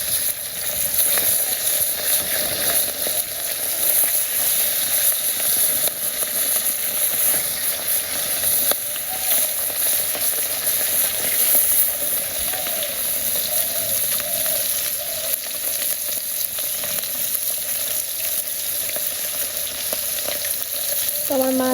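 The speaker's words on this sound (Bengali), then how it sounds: "তো মাছগুলো দিয়ে দিই তেল গরম হয়ে গেছে" Fish sizzles steadily in hot oil in a village kitchen, a continuous loud crackling fry that holds for the whole stretch with occasional pops and no talk.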